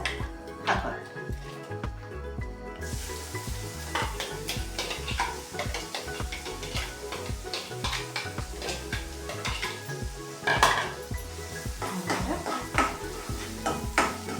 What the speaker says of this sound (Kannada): 2 ಈರುಳ್ಳಿ ಹಿಂಗೆ ಸಣ್ಣಕ್ಕೆ ಕಟ್ ಮಾಡ್ಕೊಂಡು ಹಾಕೋಣ.